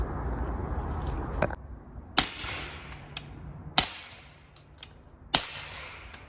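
Four sharp subsonic .300 Blackout rifle shots heard from 25 yards, spaced irregularly, each a crisp crack followed by a short decaying echo against a quiet outdoor background.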